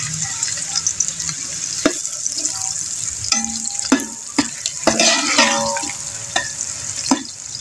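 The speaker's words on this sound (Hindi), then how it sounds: "घी गर्म हो चुका है, इसमें डालूंगी जी ये मैं प्याज है" Small onions frying in hot ghee, a close, loud sizzle with frequent scraping and clinking stir strokes of a spoon against the pot, no talk.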